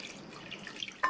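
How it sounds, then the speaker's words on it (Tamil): Water poured into a pot with moong dal and a pinch of turmeric for idli kurma, a brief trickling, dripping pour close by, with a splash at the end and no talk. "3/4 கப் தண்ணி."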